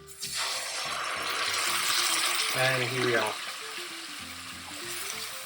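Tomato sauce hits hot rendered guanciale fat in a pan and sizzles loudly, a dense steady hiss that starts abruptly and continues throughout while someone talks over it.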